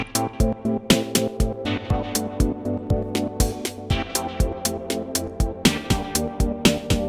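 A synth lead melody rides over a pulsing electronic beat, with echoing repeats and a spacious reverb tail smearing the notes together; no voices.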